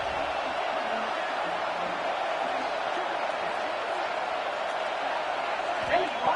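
A football stadium crowd roars as the defense makes a red zone stand in a USC game, a dense, steady wall of distant voices and noise, unbroken and loud throughout.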